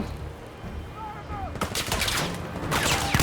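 Gunfire in Battlefield V rings out in rapid bursts of sharp, loud shots after a quieter stretch, clustering into a dense volley near the end, with someone talking over it.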